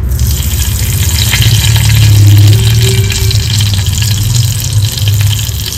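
Bay leaf and whole garam masala spices (cinnamon, cloves, mace) are added to hot oil, making a loud, steady, close sizzle that holds throughout with slight swells.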